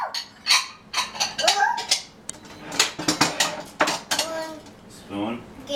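A 20-month-old toddler unloads a dishwasher: dishes and cutlery clink and clatter in irregular bursts, close by. Soft voices and a child's babble are heard between the clinks.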